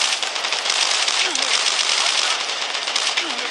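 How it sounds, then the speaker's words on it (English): Rapid automatic gunfire in the video game Call of Duty: Strike Team, a loud, continuous dense burst of shots with no breaks, over a faint voice. "Look at me just rapid firing."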